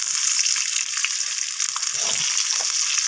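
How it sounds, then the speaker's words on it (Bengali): Squash pieces seasoned with salt and turmeric fry in a pan, giving a loud, dense, continuous sizzle with occasional stirring scrapes, close and uninterrupted by speech. "আমি স্কোয়াশটাকে নাড়াচাড়া করে ভেজে নেব লালচে করে"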